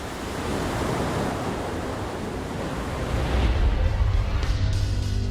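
Ocean waves surge over a coral reef in a continuous loud rushing wash, building heavier and deeper toward the end, with no voices.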